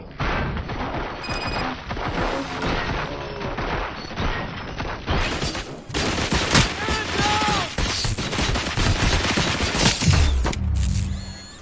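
Sustained heavy gunfire and clanking mechanical impacts in the video game RoboCop: Rogue City run for several seconds, loud and continuous with brief crashes and shifting bursts.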